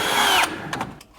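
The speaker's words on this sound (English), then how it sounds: "We drill a couple pilot holes." A power drill boring pilot holes for a brake master cylinder brace on a classic Ford Mustang: a short, loud whine that quickly drops off, followed by a couple of brief bursts.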